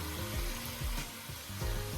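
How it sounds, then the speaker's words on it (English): Chicken pieces frying in a pot for Jamaican-style brown stew chicken give off a steady, close sizzle that crackles and pops without a break, and no one speaks. "see when I'm finished frying up this chicken"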